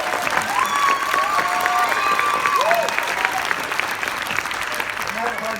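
Audience at a Roseanne premiere Q&A applauding and cheering for Sarah, a broad crowd roar of clapping with whoops and voices mixed in, sustained and fading slightly toward the end.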